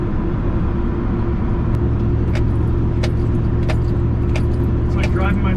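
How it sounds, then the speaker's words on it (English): Car driving along a road into town on a foggy day, a steady loud low rumble of engine and road noise throughout, with faint light rattles over it. "Going for a nice foggy drive into town."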